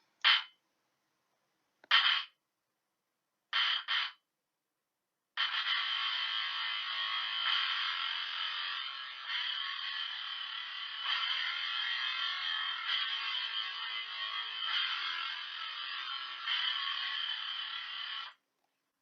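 Software guitar from the FL Studio FLEX Essential Guitars instrument, heard as three short strummed bursts followed by a long sustained, steady guitar phrase that fades out near the end, with no talking.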